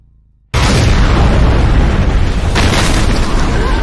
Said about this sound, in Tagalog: dito na agad sumabog ng malakas ang bomba